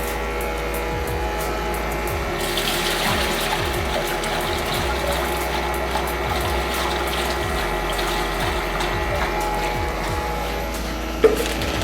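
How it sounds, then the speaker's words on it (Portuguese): Water streams steadily into a container before mixing gypsum plaster for brass casting, a continuous close pouring wash under a low motor hum, with a brief knock near the end. "Então, primeira coisa, eu coloco a água."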